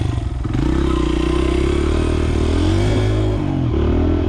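A motorcycle with a sticky choke starts and settles into a loud, steady idle close by, a low continuous engine drone with slight clatter and no voices.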